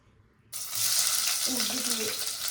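Ingredients dropped into hot oil for a chicken donne biryani start frying, a sudden loud, steady sizzle that follows a brief quiet moment and continues alone.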